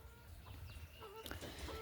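Chickens in a coop at a hilltop forest village cluck and squawk in overlapping, irregular calls over a low rumbling background, fairly close, with no talking.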